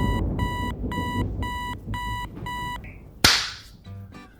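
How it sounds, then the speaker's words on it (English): An alarm clock beeps in rapid repeating bursts, six clusters of electronic tones, then a sharp loud slap cuts it off, followed by a faint trailing beep. "slaps the alarm clock"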